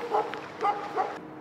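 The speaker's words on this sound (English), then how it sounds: "That's why you hear the dog barking from one of the boats." A few short barks from a dog on a boat, about three quick yaps, heard at a moderate distance.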